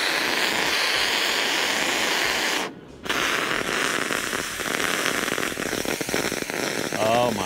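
An oxy-acetylene cutting torch with a clean tip gives a loud, steady hissing roar laced with crackle, cutting out briefly partway through before resuming.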